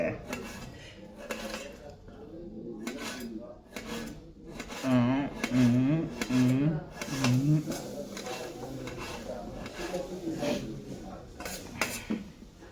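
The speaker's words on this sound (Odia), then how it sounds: "ଦେଖ ପିଆଜ କଟା ଯାଉଛି ମାଲିକେ" Onions being cut in a home kitchen give a string of sharp knife taps and scrapes, clustered irregularly, mixed with light clatter of utensils while a voice talks over them.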